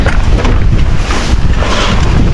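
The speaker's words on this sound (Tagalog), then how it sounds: "lakas ang hangin." Strong wind from a typhoon roars steadily and loudly across the microphone, a continuous buffeting rush with no pauses and no speech.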